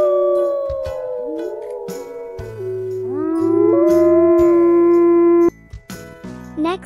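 A wolf howls in long rising and falling tones, with a steady drone and layered musical backing underneath that cuts off near the end.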